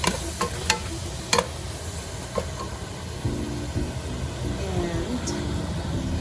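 Red onions frying in a pan while being stirred, a steady close sizzle with several sharp clacks of a utensil against the pan early on, followed by an ongoing hiss and a low hum, with no voices.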